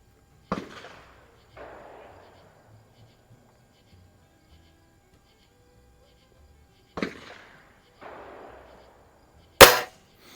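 An Anschutz model 335 .177 springer air rifle fires at a range, sharp cracks each followed by a short trailing thud, heard in spaced pairs over several seconds, with one final loud close report.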